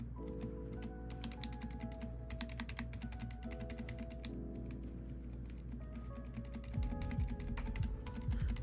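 Keys and stabilizers on a cheap thrift-store gaming keyboard, relubed and slightly mushy, clack in a steady stream of close typing strokes, with a denser, louder burst of presses near the end.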